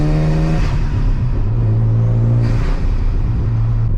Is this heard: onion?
no